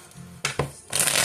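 Tarot cards being shuffled by hand, brief riffling and tapping bursts close up, with a short flutter at the end and no talking.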